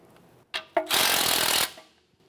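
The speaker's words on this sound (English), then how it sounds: "Sometimes you have to use an 18mm socket to at least break the nut free first." An 18mm socket on a tool breaks a front sway bar link nut free on a 2017-2024 GMC Acadia, two short sharp bursts followed by a loud sustained hammering rattle lasting under a second, close and alone.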